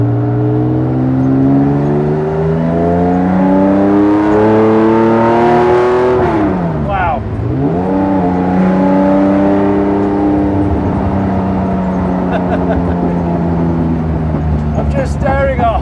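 A lightweight Porsche 911 engine pulls hard under acceleration while driving, its note climbing steadily, dipping sharply around a gear change, then rising again, loud and close throughout.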